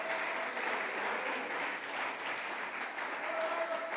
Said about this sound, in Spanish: ¿Usted cree que Dios merece un aplauso, hermanos?